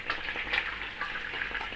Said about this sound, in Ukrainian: Тепер хай смажиться з цього боку. Куряче м'ясо підсмажилось.